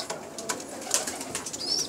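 Pigeons of a backyard loft, with a family of young birds, coo and call softly in a steady murmur, with faint higher chirps scattered across the short stretch and no talking.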